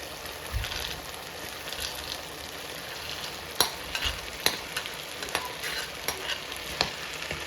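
Green beans stir-fried in a pan for fried rice with prawns and chicken: a soft steady sizzle with occasional scraping stirs and light taps, quiet and close, no talking.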